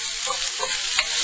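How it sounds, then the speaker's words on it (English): Carrots and other vegetables tossed in hot peanut oil for moo goo gai pan give a steady close sizzle, broken by a few stirring scrapes over just over a second, with no talking. "we're going to get everything coated with that peanut oil, and we're going to get it all stirred up"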